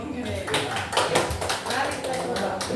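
A group performs a rhythmic clap-and-chant cheer, several voices chanting together over steady, close, evenly spaced hand claps.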